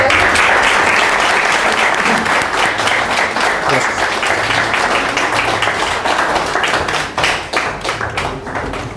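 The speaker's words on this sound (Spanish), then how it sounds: "le agradecemos a nuestro ponente con un fuerte aplauso" Loud, sustained audience applause for a speaker after a talk on seismic effects in Mexico City, dense crowd clapping that gradually thins and fades toward the end.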